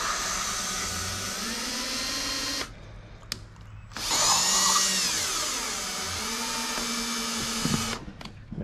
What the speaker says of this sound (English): I use the drill connected to the valve just to spin it like that